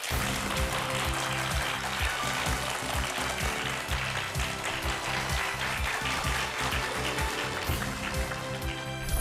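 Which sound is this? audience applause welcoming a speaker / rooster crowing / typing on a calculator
audience applause welcoming a speaker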